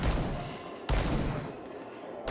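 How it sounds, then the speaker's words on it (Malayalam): Gunfire in the mobile shooter game Bullet Echo, two bursts of rapid shots separated by a short gap, loud and close with no talk over them. "എവിടെ നിന്ന് വെടിവെച്ചായിരുന്നു"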